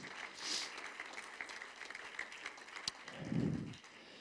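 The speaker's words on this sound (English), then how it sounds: "Let's give him a good hand clap of praise." A church congregation claps in praise during a service, a soft, distant patter of applause with a faint voice or two, rising briefly near the end.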